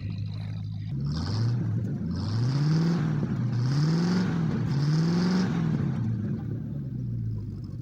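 A 1976 Ford Gran Torino engine runs steadily up close, its low rumble rising and falling through several revs and easing back to idle, with no talking.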